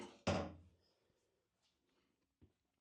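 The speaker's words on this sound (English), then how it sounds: "Move that door." A door on an Emco Concept Mill 155 milling machine is moved, giving one loud, close thunk followed by faint rattles and a small bump near the end.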